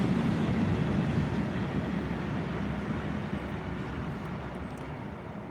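A low, steady rumble of a passing train fills the whole stretch, loud and continuous with no talking over it.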